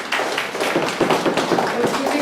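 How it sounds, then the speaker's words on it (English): An audience at a medical workshop claps in a dense, continuous round of hand claps with sharp, close individual slaps standing out from the steady patter, and no talk over it. "A round of applause, please."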